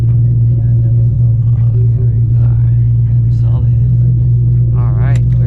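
Ford Shelby GT500 cruising down the road, its engine a steady low rumble throughout with faint road and wind noise and a few brief higher sounds near the end.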